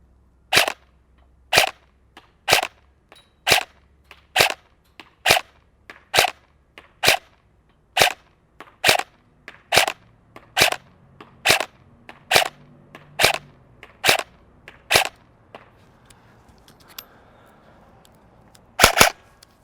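A KWA QRF airsoft AEG fires about sixteen evenly spaced single shots at a target at 100 feet, each a sharp crack, then two rapid shots close together at the end.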